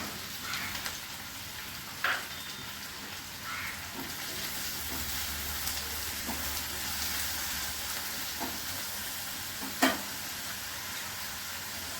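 Potatoes fry in a pan for an egg and potato ghonto, a soft, steady sizzle punctuated by a few sharp clatters of stirring against the pan.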